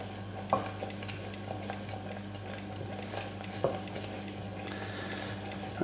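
Homemade custard heating in a pan while being stirred, with a quiet, even bubbling bed and occasional sharp taps of the utensil against the pan; no voices.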